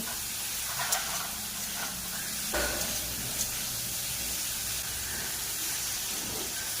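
Water is added to a pan of okra and potato curry, bringing a sharp hiss that surges briefly and then settles into a steady steamy sizzle.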